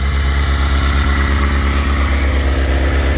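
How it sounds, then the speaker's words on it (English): A 2006 Suzuki GSX-R600 sportbike idles steadily up close with its radiator fan running, a loud continuous low engine drone with a faint whirring hum on top and no talking. "There's the fan. See, it works."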